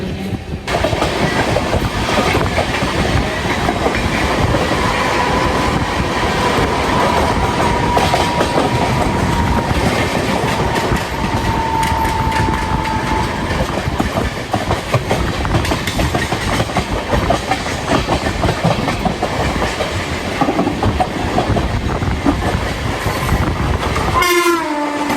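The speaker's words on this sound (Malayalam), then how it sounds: "നമ്മളെ ബോംബെത്തെ ലോക്കൽ ട്രെയിൻ." A Mumbai local city train rumbles steadily along the rails close by, its loud continuous roar carrying rhythmic clickety-clack from the wheels for the full duration, and no voices are heard.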